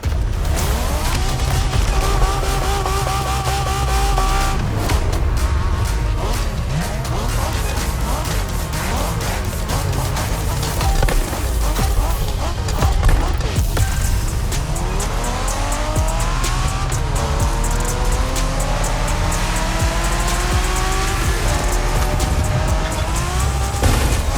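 Cars racing through a Japanese street race in The Crew Motorfest video game, engines revving and tires squealing loudly and continuously, with game music and brief voices over the driving.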